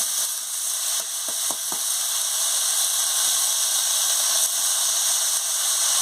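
Pumpkin greens and stalks with potatoes and green chilli sizzle in a frying pan for a Bengali chorchori, a steady hiss with a few faint clinks near the start, no voices.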